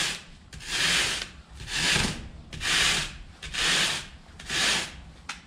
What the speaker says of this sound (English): so we're just gonna sand everything at an angle